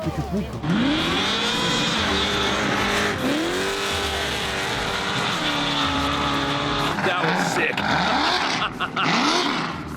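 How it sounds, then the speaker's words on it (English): Drag racing cars, including a blown methanol burnout car and a high-revving Commodore, rev hard and scream through rising gear changes, engines loud and close, with a brief excited voice near the end. "a blown methanol burnout car with slicks on would then go up against like a high comp, high revving Commodore"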